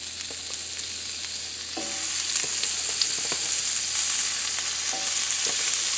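Lamb chops sear on a cast iron grill pan indoors, a steady broadband sizzle that swells louder after the meat goes down, with a few light clicks and taps of handling and no talking.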